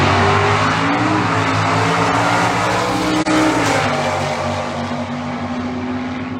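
Stock and super stock drag race cars, including a 1967 Ford, launch at a divisional bracket race with a loud, sustained engine roar that holds steady with a brief dip midway.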